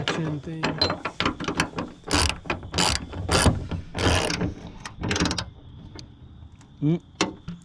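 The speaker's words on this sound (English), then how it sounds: "Make sure it's lined up, and then use your 13mm socket." A 13mm socket on a ratchet tightening the mount of a Ford Performance hood strut, giving a close series of sharp, irregular clicking bursts, with a brief whirring sweep near the end.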